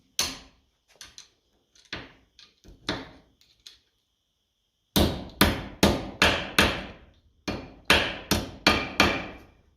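Hammer blows flattening a washer on a 1955 Ferguson 20 TED TVO tractor: a few scattered light taps, a pause, then a rapid series of about a dozen sharp metallic strikes, close and loud.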